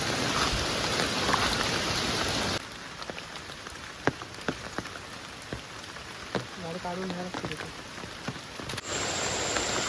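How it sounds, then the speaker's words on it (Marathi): Soft, steady patter of light drizzle on surfaces at a night rain campsite, with scattered drops, quieter in the middle stretch, with faint background sounds. "इकडे पाऊस आहे ना रिमझिम रिमझिम चालू आहे"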